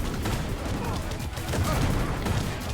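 Rapid gunfire in the video game Gungrave G.O.R.E, a dense, loud burst of overlapping shots that runs without pause for a few seconds.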